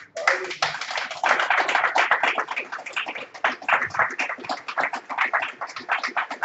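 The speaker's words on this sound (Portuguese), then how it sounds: "E as palmas do Senhor" A church congregation claps for the Lord during a sermon, steady close hand claps filling the whole stretch with some voices mixed in.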